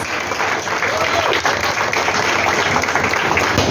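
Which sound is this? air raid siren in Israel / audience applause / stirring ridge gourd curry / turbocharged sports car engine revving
audience applause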